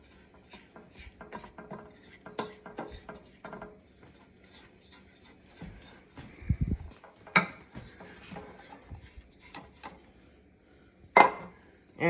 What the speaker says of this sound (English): Now we probably should take a spatula and take stuff off the sides here